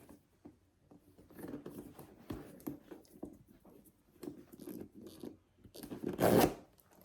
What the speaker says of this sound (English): Zipper again.